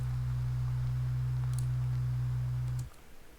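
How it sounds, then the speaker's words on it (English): Low synth bass preset from the Lofi Keys plugin holding one deep, steady note for almost three seconds before cutting off, with faint clicks over it. "Using this X bass bass face preset as the low end."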